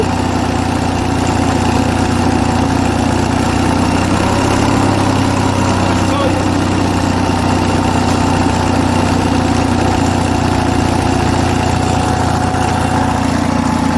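Onan US military generator engine idling steadily throughout, a continuous low rumble with mechanical vibration, close and loud with no speech over it.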